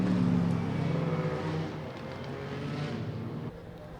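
GT race cars led by Lamborghinis rumble along on a formation lap, a steady low engine drone with a slightly louder opening that eases off toward the end.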